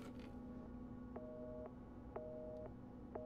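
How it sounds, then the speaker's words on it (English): Busy signal from a working telephone in Resident Evil 7, steady tone bursts pulsing at a regular pace over a low hum, fairly quiet, with no talking. "It's a working phone."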